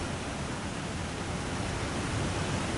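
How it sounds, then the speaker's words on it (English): Loud, steady roar of a waterfall in The Long Dark, a dense, unbroken wash of rushing water that fills the whole clip with no pauses or voices. "waterfalls are always very, very loud."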